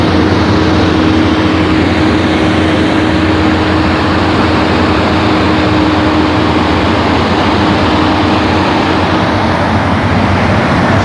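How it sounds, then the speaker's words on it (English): An asphalt truck spraying the road with sealant during seal coating, a loud, steady, unbroken engine roar and hiss filling the whole stretch, close by and without any voices. "First, the truck sprays the road, so you'll see that."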